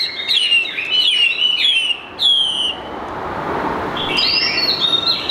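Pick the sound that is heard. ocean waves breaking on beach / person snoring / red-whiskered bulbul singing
red-whiskered bulbul singing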